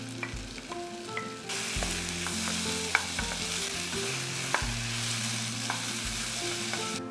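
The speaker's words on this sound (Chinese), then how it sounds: "然后把马铃薯跟胡萝卜加下去" Potatoes and carrots stir-frying in hot oil in a pan for a vegan dish: a continuous loud sizzle with repeated stirring scrapes and clicks, and a steady low tonal hum underneath.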